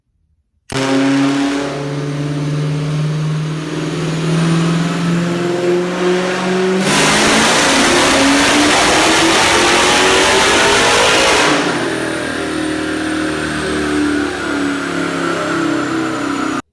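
A supercharged Hellcat-engined car with a new pulley setup pulls hard on a dyno, its engine roaring loud and continuous for many seconds and climbing in pitch before settling into a harsher, rougher blare, with no talking.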